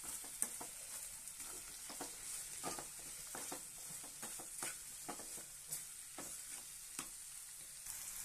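Bitter gourd fries with rock salt in a pan, giving a steady, quiet hiss of sizzling oil broken by frequent soft scraping and stirring taps.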